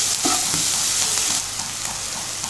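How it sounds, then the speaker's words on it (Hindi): Green chillies frying in masala in a pan for chicken samosa filling, a loud, close, continuous sizzle with light stirring scrapes throughout. "हमने अच्छे तरीके से अभी 2 से 3 मिनट फ्राई होने देना ताकि जो हमारी मिर्ची हैं वो अच्छे तरीके से"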